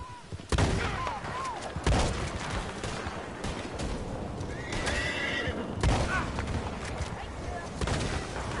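A horse neighs loudly amid sharp gunshot bursts and hoofbeats in Red Dead Online, with people talking over the chaotic mix.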